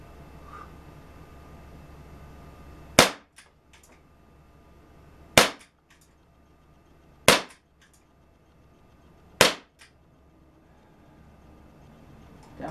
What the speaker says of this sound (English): Crossman Vigilante. That's what's firing it now.